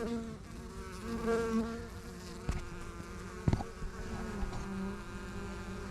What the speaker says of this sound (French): Certaines abeilles déjà ramènent du pollen